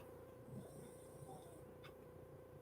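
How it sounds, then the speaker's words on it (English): Very faint, soft rhythmic snoring, close but quiet, with low rumbling breaths under a hushed background. "Can you hear him snoring?"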